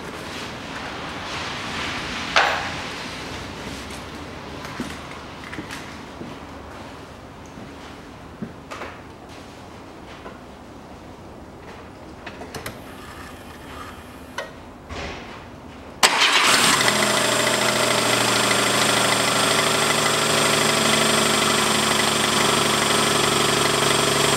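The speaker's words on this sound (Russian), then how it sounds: "Пока без воздушного фильтра заведу." Daewoo Matiz 0.8 from 2007 with an automatic gearbox, freshly swapped engine running without its air filter, fires up abruptly after quiet clicks and rattles, then settles into a loud, steady, buzzing idle close by.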